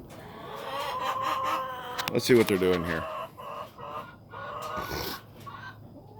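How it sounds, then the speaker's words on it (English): Chickens cluck and squawk nearby, one loud burst in the middle, while a person speaks briefly. "Chickens are still talking to me"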